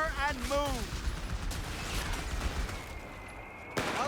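Gunfire in the Company of Heroes 3 video game: bursts of shots and battle noise run steadily underneath overlapping radio-style unit voices, with a sustained tone joining partway through.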